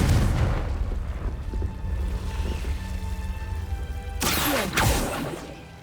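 A Confringo explosion spell in Hogwarts Legacy on PS5 sounds as a sudden loud blast with a whooshing burst, followed by a second thump, after a stretch of quieter rumbling ambience.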